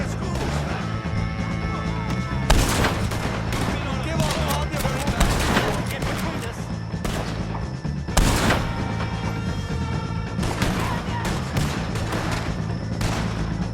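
Gunfire at O'Driscolls in Red Dead Redemption 2 rings out over a steady musical bed, with scattered sharp shots and a few heavier crashing volleys spread through the passage at moderate loudness.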